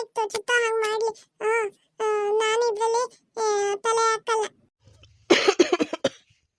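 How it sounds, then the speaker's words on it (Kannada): A person with a lingering deep cough makes voiced, sing-song sounds, then breaks into a cluster of short, harsh coughs near the end, close by. "ಯಾಕೋ ಈ ಆಳದ ಕೆಮ್ಮು ವಾಸಿ ಆಗಂಗೆ ಕಾಣಿಸ್ತಿಲ್ಲ"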